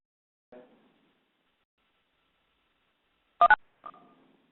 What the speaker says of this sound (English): Sorry, I dialed in with my phone.